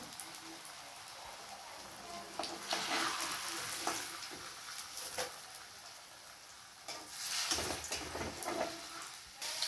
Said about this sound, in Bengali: এবারে ভাজা হলো, দুটো দুটো করে ভাজছি